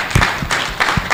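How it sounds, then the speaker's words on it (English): Audience applause at a university faculty lecture: a brief, moderately loud burst of scattered clapping lasting about a second. "So another round of applause for them."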